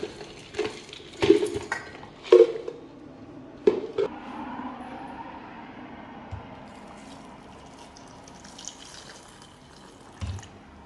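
A block of jaggery is tapped and crushed in a kitchen for chana dal payasam, giving a few sharp, separate knocks early on, then quieter scraping and handling.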